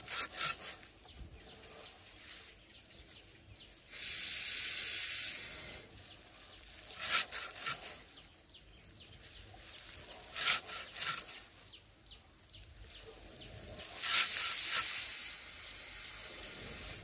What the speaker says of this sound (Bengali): তো আমি খড় কাটছি